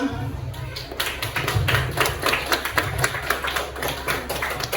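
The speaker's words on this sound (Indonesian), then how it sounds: "beri tepuk tangan dulu untuk temannya" Classmates in a classroom clap for a fellow student, a loud, uneven patter of hand claps running throughout with voices mixed in underneath.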